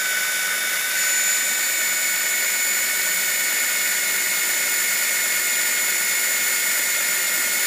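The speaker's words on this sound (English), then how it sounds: "I'm just going to drill down" A power drill with a combined drill-tap bit whines at a high, steady pitch as it bores into metal, loud and continuous with no voices.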